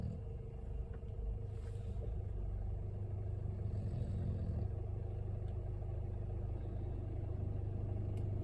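Car creeping along a forest track past overhanging branches, a quiet low rumble from inside the vehicle with occasional soft clatters and scrapes.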